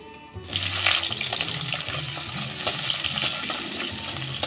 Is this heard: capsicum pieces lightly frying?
yes